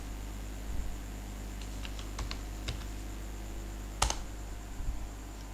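Typing on a computer keyboard to enter a search, a few sparse key clicks and taps over a steady background hiss, close but quiet, no voices.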